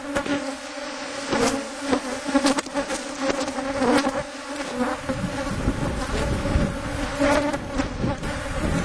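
Honeybees buzz continuously around beehives on a large ranch, a dense close swarm drone with individual insects passing near, under light wind.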